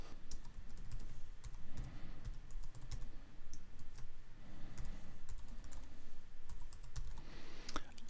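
Login details being typed on a computer keyboard while connecting to SoundCloud: a steady run of close, quick key taps with brief pauses, no voices.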